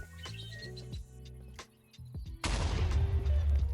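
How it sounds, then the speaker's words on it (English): Primed TNT in the Minecraft Pneumaticcraft mod blows up on thrown iron, a sudden loud blast that breaks a sequence of short game tones and leaves a dense rumbling roar. "I love the explosion"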